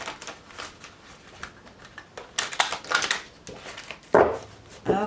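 Rapid riffling and soft slapping of tarot cards being shuffled, a few bursts of crisp flutter close to the microphone, with no talking.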